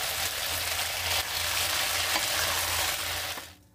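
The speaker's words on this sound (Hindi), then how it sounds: "ये देखिए अच्छे से भुन चुका है हमारा ये पनीर" Paneer cubes crisping in a pan of hot oil for chilli paneer, giving a loud, steady sizzle and crackle that holds evenly for several seconds before cutting off abruptly at the end.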